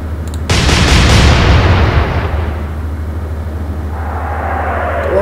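Naval guns boom in the Atlantic Fleet naval warfare game, with a sharp loud blast followed by a long rumbling roar of shell fire and distant hits that slowly fades, then a faint rising whine near the end.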